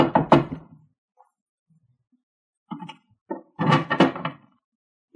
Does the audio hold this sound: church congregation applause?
no